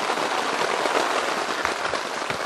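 Heavy overnight rain drums on a hot tent in a dense, continuous patter, with one sharper knock at the very end.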